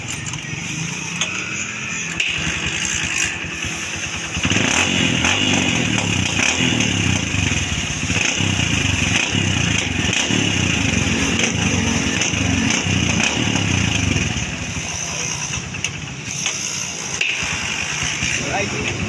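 A Kawasaki Barako motorcycle engine idles steadily after carburetor tuning, then revs up to a louder, buzzing run for about ten seconds before easing back to idle, with a rhythmic ticking pulse throughout.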